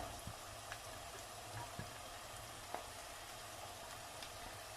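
Quiet, steady sizzling of peppers and onions frying in a pan, with a few faint pops and ticks over the hiss.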